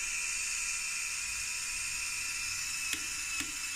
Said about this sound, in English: we are controlling the landing gear, so if I reverse it, it goes down and back up again